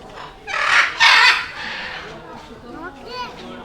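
Large parrots such as military and blue-and-gold macaws calling in a zoo aviary: a few loud, harsh squawking bursts near the start, then fainter calls and background bird noise.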